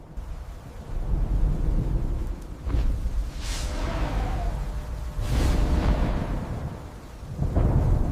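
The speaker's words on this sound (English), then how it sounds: "Thunder exploded with such force that the ground vibrated." Heavy thunder rumbles and booms through a storm, with deep rolling crashes recurring several times, loud and close, no voices.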